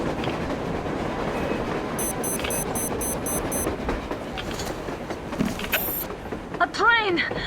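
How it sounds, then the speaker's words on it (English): A train approaches across a snowy surface blizzard in the video game Metro Exodus, its rumble and rail clatter rising through steady wind noise, with a rhythmic beeping and a rising metallic squeal near the end. "A train! A damn train on the surface!"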